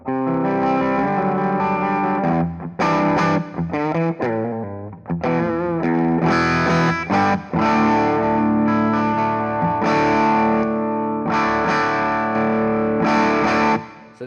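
An electric guitar on its bridge pickup plays through an EarthQuaker Devices Gary overdrive pedal, giving a loud, driven tone of strummed chords and single notes that ring on steadily throughout without any talking.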